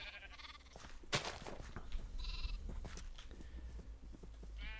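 Sheep bleating in Minecraft, several separate wavering bleats spread across the stretch, fairly close and clear over a steady low game background.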